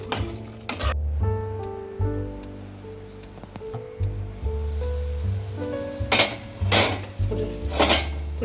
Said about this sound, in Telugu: దీన్ని మంచిగా కలుపుకొని మళ్ళీ ఒక టెన్ ఫిఫ్టీన్ మినిట్స్ వేగనివ్వాలి